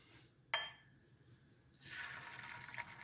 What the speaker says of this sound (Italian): Sentite come sfrigola?